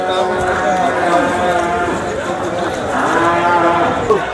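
Buffaloes at the Sangola buffalo market low and moo loudly and close, long drawn calls layered over constant crowd chatter and livestock bustle.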